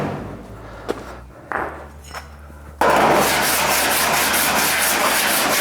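A steady, loud abrasive rubbing grinds continuously across a metal body panel on a Ford Falcon show car, following a few handling knocks and softer scrapes at the start.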